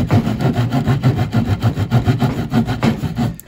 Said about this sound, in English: it really shouldn't have no problem cutting this tree branch here